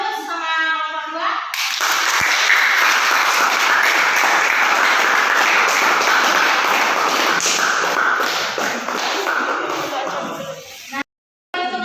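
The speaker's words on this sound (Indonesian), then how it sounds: "beri aplaus sama kelompok" Classroom applause for a student group presenting a science experiment: sustained, dense clapping from many hands that lasts about nine seconds, then fades out.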